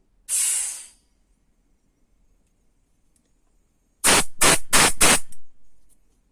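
Compressed air rushes from the new tap on an Orazio compressor's air hose: one short sharp hiss, a pause, then four quick loud bursts in a row, all close by.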